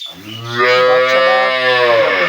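A Sahiwal Jersey cow that has calved once lets out a single long, loud, close moo that swells and holds for about two seconds, with no talking.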